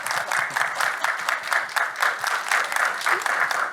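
An audience at a panel talk applauds for a man just introduced, with dense continuous clapping that pulses evenly and holds at a strong, steady level throughout.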